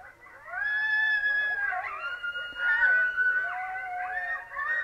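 A long, wavering coyote locator howl rises and falls, played loud and clear through an electronic game caller's small speaker with nothing else behind it.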